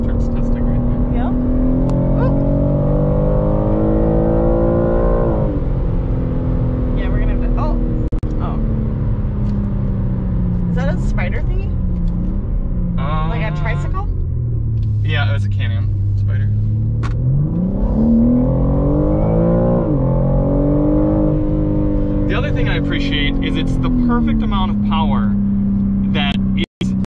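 A 2021 BMW M3 Competition accelerates hard through several gears. The engine note climbs loudly, then drops at each upshift, heard from inside the car with a brief talking voice among the engine roar.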